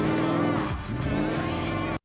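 A rusty 1968 Dodge Charger, not driven for 35 years, runs with a rough, loud engine note and a brief dip in pitch mid-way before cutting off abruptly.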